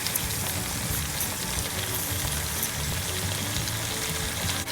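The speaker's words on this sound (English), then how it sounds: "after putting all my mutton in, I'm going to start frying it up" Mutton sizzles hard in a hot pan while being fried for a Kashmiri Rogan Josh, a loud, dense, continuous crackle with no voices over it.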